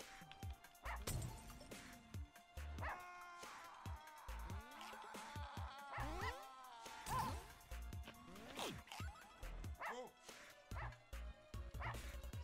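Stray dogs on a Russian subway yip, whimper and bark in quick, irregular bursts, fairly faint and distant, mixed with rustling and scattered voices around them.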